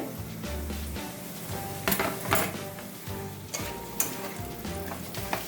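Steady sizzling of carrots frying on high flame in a hot pan for fried rice, with occasional louder crackles and a few clinks of utensils throughout.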